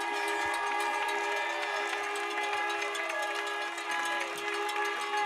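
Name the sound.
whistle blowing after the football game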